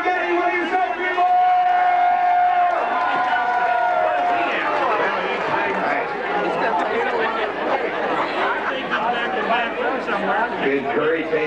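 A live audience cheering and chattering as spaghetti is brought out at a wrestling-style event, a loud dense crowd roar with scattered shouts, while a voice talks over the start.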